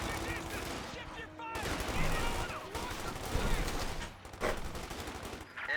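A .50 cal machine gun firing in the World War II strategy game Company of Heroes 2, heard as repeated bursts amid a busy battlefield mix of other shots and explosions, with a voice talking over it.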